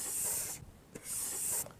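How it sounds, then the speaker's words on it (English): A palette knife scrapes paint off a painting palette in two long, rasping strokes separated by a brief pause, with a faint tap between them and a quiet, close sound throughout. "I'm going to spray my palette one more time and scrape some of this"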